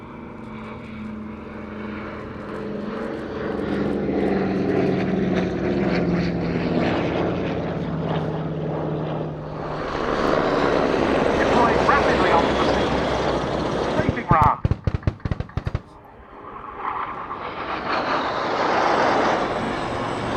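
A Douglas Dakota propeller aircraft drones past at an air display at Yeovilton, its engines swelling and fading over twenty seconds, with an announcer talking over it and a burst of sharp bangs near the end.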